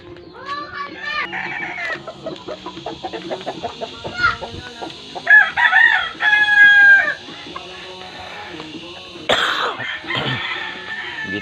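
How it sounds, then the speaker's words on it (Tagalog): Farm chickens cluck and squawk close by while a rooster lets out loud crows, mixed with scattered bird calls and a few coughs in the background. "Dito naman yung ating mga alagang ibon."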